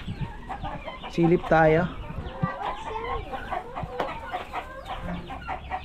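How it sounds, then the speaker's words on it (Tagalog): Older laying hens cluck and squawk close by on a farm near a pond, with a burst of loud calls in the middle and a person talking over the flock. "Kung nangingitlog na ba ito mga senior na manok?"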